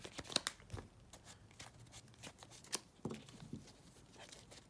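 Sleeved Yu-Gi-Oh! trading cards are shuffled by hand in quiet, irregular bursts of plastic-sleeve slaps and soft crinkly riffles, close and faint.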